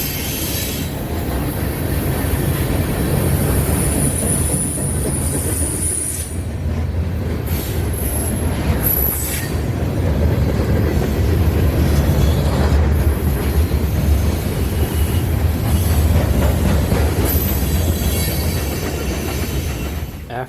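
Freight train X841 rolls past at North Elizabeth, a loud steady rumble of railcars with high, sustained wheel squeals ringing out as it rounds a curve, close and continuous throughout.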